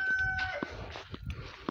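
Chickens, a rooster housed with a hen, give several short clucks and squawks at close range against a soft, noisy background, with no talking.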